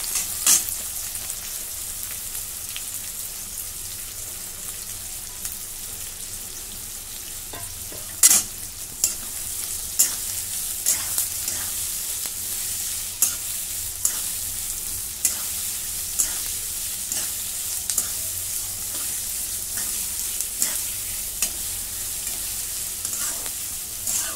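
Chopped onion sizzles in hot oil with cumin seeds, a steady close frying hiss broken by occasional clicks and scrapes of a spoon stirring the pan.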